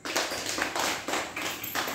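Group of children clapping their hands in a rhythmic exercise drill, four bursts of close, fairly loud claps at a steady beat with no talking.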